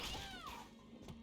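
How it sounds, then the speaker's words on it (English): A cat in the Bloodstained video game gives a single drawn-out meow that falls in pitch. It is quiet and sits over a low game background hum. "sorry about the evil cat. I'm sure there's good cats in this video game."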